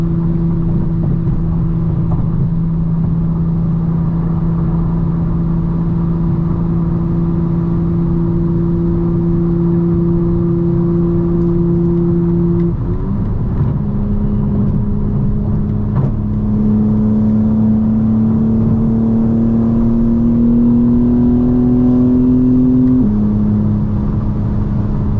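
2025 BMW M4 Competition driven hard, its engine droning loudly and continuously from inside, climbing in pitch, then a quick shift and another strong pull before easing off.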